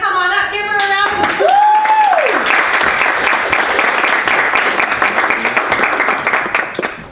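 Audience applause at a talk, a steady wash of many hands clapping that begins as a voice trails off. Faint whistling is heard early on.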